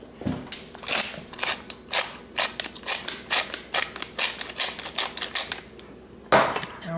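Pepper mill grinding fresh pepper over a homemade salad dressing, a rapid series of crunchy, rasping turns in a regular rhythm, close and fairly loud with no talking.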